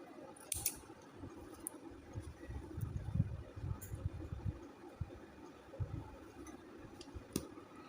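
Scissors cut zardosi thread during Aari hip belt embroidery, a few faint, close, crisp snips and clicks over a quiet, muffled handling background with no talking.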